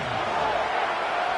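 Loud stadium crowd at an NFL football game, Cardinals against Packers, roaring steadily as a dense, sustained wash of noise to force a false start.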